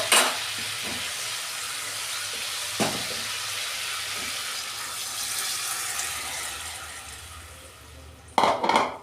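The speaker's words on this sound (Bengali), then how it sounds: "আমি এবার ডালটা ঢেলে দিচ্ছি।" Chana dal is tipped into hot spiced oil in a pan, giving a continuous hiss of sizzling with a few soft stirring clinks and a louder clatter of utensils near the end.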